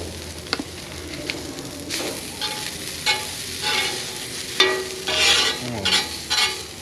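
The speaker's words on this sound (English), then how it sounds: "I'm going to let my peppers continue to cook for just a little bit longer" Peppers fry in a pan for a cheesesteak, a soft crackling sizzle with intermittent louder bursts of spatter and stirring, fairly quiet and without talk.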